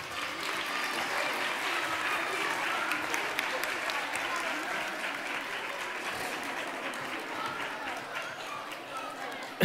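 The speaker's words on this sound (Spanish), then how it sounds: "Un aplauso para ellos." Sustained applause from an audience at a public event in Marbella as names are read out, a continuous crowd clapping that holds steady for several seconds with faint voices mixed underneath.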